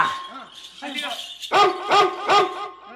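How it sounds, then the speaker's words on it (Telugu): Three sharp barks from a dog close by, following some short yips and voice-like sounds at the start. "కుక్క"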